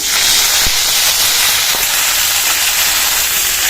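Loud, steady sizzling hiss of curry leaves hitting hot oil after mustard seeds have popped, close by, with a couple of faint clicks and no talking.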